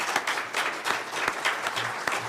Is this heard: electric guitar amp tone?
no